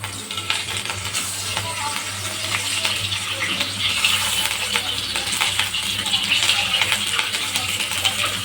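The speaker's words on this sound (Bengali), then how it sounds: "ব্যাস ডিমটা হালকা করে ভেজে নেব" Eggs fry in hot oil seasoned with salt and turmeric, giving a continuous dense sizzle close by, with small crackles and light clinks throughout.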